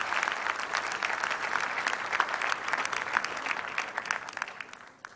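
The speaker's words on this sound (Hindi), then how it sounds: "तालियां।" Guests applaud at the 2012 annual dinner of the Old Ravians Association in Lahore: many people clap steadily and briskly for about five seconds before it tapers off at the end.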